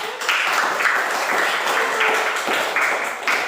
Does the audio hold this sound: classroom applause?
yes